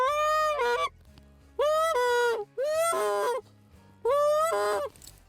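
A goose call blown badly gives four rough, wavering honks, each about a second long and evenly spaced, sounding more like a sick duck than a clean goose note, loud and close.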